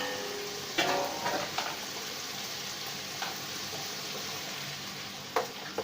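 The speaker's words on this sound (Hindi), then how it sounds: "जब तक पानी नहीं सूखता तब तक हम इसको उतारेंगे नहीं, इसको फ्राई होने देंगे।" Chicken frying in a pan for a no-oven chicken bread, a steady broadband sizzle with a few louder crackling bursts and stirring scrapes, close and continuous with no voices.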